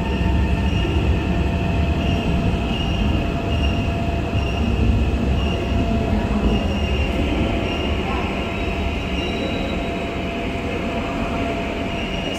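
A Singapore MRT train rolls along with a loud, steady rumble of wheels on rails, faint squealing tones drifting through, and no talking.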